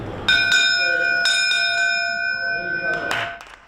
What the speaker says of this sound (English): rang the bell that will eventually be presented to the crew of the USS Montana